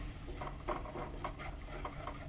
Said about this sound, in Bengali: এর মধ্যে একটু জল অ্যাড করে দিলাম, দিয়ে ভালো করে নেড়ে নিচ্ছি।